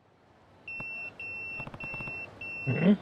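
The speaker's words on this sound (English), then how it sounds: "It's my beeper." A pager beeps in the video game Yakuza 0, giving a series of clean, steady electronic tones broken by short gaps, fairly loud and alone, ending in a brief rustle.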